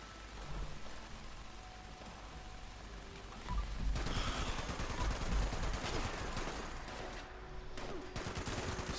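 Rapid in-game gunfire from Fallout 76 crackles in dense bursts throughout, growing louder and busier after the first few seconds, with shots layered over a noisy combat background.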